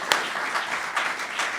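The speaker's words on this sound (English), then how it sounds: "if we could please have a round of applause for the Dart Foundation" A brief burst of audience applause at the 2013 Dart Awards ceremony, a steady patter of many hands clapping at moderate volume with no talk.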